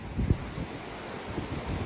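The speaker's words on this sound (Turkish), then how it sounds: "Gördüğünüz üzere köyümüzde dere akıyor." Stream flowing through a village, a steady broadband rush of water heard outdoors under heavy wind buffeting on the microphone, with a couple of brief thumps near the start.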